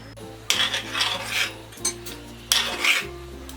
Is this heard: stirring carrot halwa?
yes